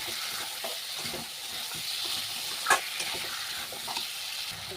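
Salted pieces fry in a pan for a vegetarian, mutton-style dish cooked without onion or garlic. A steady close sizzle runs under stirring scrapes, with one sharper clink of the utensil midway; no one speaks.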